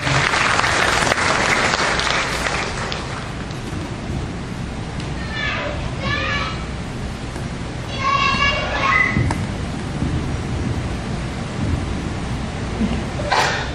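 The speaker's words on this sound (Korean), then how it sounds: "다시 한번 큰 박수로 함께 해주시기 바랍니다" An audience of parents at an elementary school curriculum briefing claps loudly, then the applause thins into a murmuring room with brief chatter and small thumps, and a softer burst of clapping follows near the end.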